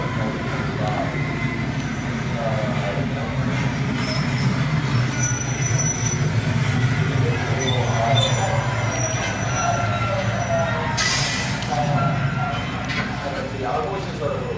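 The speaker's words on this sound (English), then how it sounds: "I was only able to capture the train pulling into the station." Train pulling into a station and passing by, wheels squealing and rail cars rumbling steadily throughout at moderate distance, with people talking quietly underneath.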